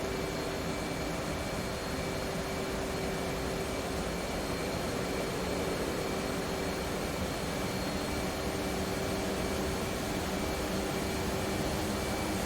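Steady jet engine drone from an F/A-18C Hornet in flight in the DCS World simulator, a continuous even whine and rumble with a faint tonal hum, no voices.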